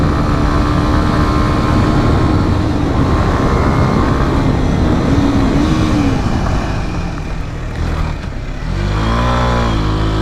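A 2019 Kawasaki Z125 motorcycle engine drones loud and close under riding, with pitch rising and falling, a brief dip as it downshifts, then revving back up, all buffeted by heavy wind noise.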